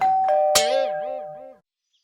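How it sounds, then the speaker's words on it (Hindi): A cartoon doorbell chimes with a sustained electronic ding-dong tone, joined by a sharp strike and a warbling, wavering tone that fades out after about a second and a half, followed by silence. "चाचा चौधरी और दरवाजे की घंटी।"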